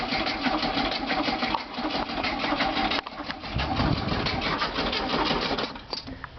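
A Volkswagen Beetle engine cranks steadily for several seconds without catching, a rapid mechanical churning with a brief break near the middle before the starter turns over again, close and fairly loud.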